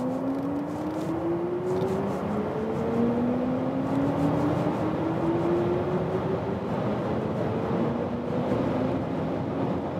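A BMW in sports mode accelerates hard from 100 km/h, its engine note rising steadily in pitch through successive gear changes beneath broad road and wind roar heard from inside the cabin.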